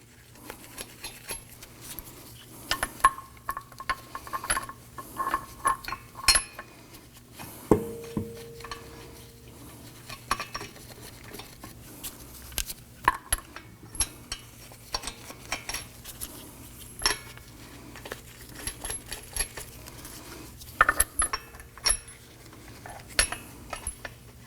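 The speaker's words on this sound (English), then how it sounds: "Let's go ahead and get all of our lug nuts started" Lug nuts are started by hand onto the front wheel studs of a 2018-2024 Toyota Camry, producing scattered close metallic clinks, rattles and scraping taps at irregular intervals over a low steady hum.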